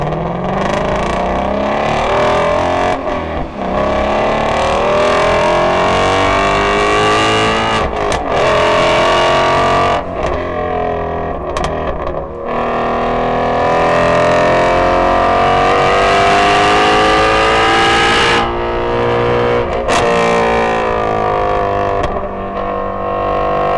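Race cars roar around a track in a Ford versus Chevrolet and Ferrari contest, a C8 Corvette among them; engines rev and rise continuously and loudly with shifting pitch and gear changes throughout.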